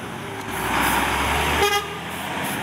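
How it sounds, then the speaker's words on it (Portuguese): A truck gives a loud, brief toot of its horn while motor traffic passes at a car gathering in Praça da Espanha, Curitiba, Brazil, the honk standing out over a steady road rumble. "Olha aí o caminhão."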